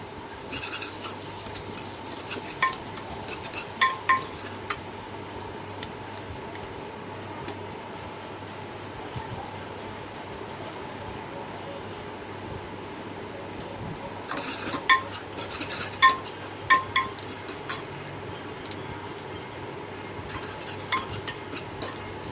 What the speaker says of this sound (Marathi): छान असं मिक्स करत राहायचं